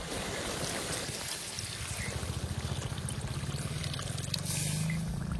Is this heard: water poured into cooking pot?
yes